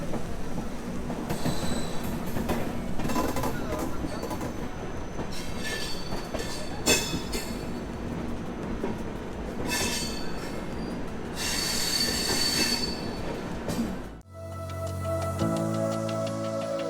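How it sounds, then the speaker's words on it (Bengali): Sealdah Rajdhani Express pulling out of platform 12 at Sealdah station bound for New Delhi, with a continuous rumbling roll of wheels, rhythmic clatter and occasional squealing bursts; the sound cuts abruptly to a different, quieter scene near the end. "12 নম্বর প্ল্যাটফর্ম থেকে শিয়ালদা রাজধানী রওনা দিল নিউ দিল্লির উদ্দেশ্যে।"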